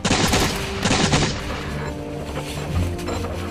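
Musket gunfire crackles in a Revolutionary War battle against Hessian soldiers. Close, loud, overlapping shots come in a dense volley during the first second and a half, then trail off into a lower rumbling tail.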